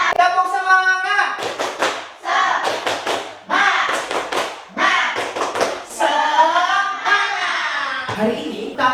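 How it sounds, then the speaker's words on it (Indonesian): Primary schoolchildren in a fifth-grade classroom do a rhythmic patterned clap, bursts of hand claps and taps in a set beat, chanting along in unison between the claps. "tepuk semangat dulu, oke? Biar lebih semangat"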